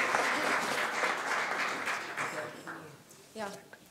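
A crowd at a charity gala in Frankfurt breaks into loud applause that gradually thins and fades. A voice begins speaking as the clapping dies away near the end.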